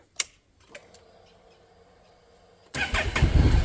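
Honda NC 750X DCT motorcycle from 2025, nearly new with low mileage, starting up: a couple of faint clicks and ticks, then the engine catching and settling into a loud, rough idle.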